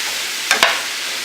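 Shrimp frying in a hot pan with garlic, a steady bright sizzle running throughout, broken by two quick scraping stirs of the utensil near the middle, close and loud.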